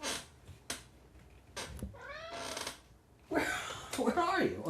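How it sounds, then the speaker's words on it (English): A cat meows and caterwauls in a few drawn-out cries, close and fairly loud, with people talking at times around the calls. "There's the cat."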